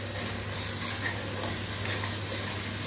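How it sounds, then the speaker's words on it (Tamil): Minced mutton sizzles and fries in a pan while being stirred, a steady close crackle with soft scraping and no talking. "நம்ம நல்லா கிளறி விட்டு நல்லா மிக்ஸ் பண்ணுவோம் நல்லது"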